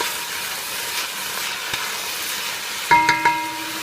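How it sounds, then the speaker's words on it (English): Onions frying in a pan for a vegan loaf, a steady sizzle and hiss broken by occasional stirring scrapes and a few sharp clinks of the utensil against the pan near the end. "You don't want to over-stir your onions because you do want them to get golden brown."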